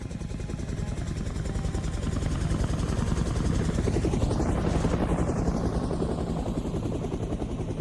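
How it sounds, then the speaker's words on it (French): A helicopter sets down on a soaked lawn in front of a manor, its rotor thudding loud and close with a rising then falling whine as it passes nearest, continuous with no talk. "un hélico se pose sur la verdure détrempée"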